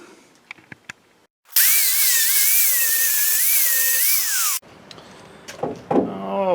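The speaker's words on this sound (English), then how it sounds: "clean it up just a little bit with the flap wheel" A flap wheel on a power grinder cleaning up a welded Chevy Silverado tailgate hinge gives one loud, steady whine of about three seconds, with a wavering pitch, bracketed by clinks and handling noise.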